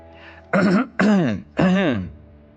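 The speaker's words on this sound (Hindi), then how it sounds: "अपना गला साफ किया" A man clears his throat with three gravelly, voiced rasps, close and fairly loud, each about half a second, separated by brief pauses.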